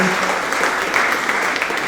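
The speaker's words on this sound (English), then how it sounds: "your applause are very well deserved for Joe" Applause at a Unitarian Universalist congregation's annual meeting, a brief burst of steady clapping from a room of people with a few voices mixed in.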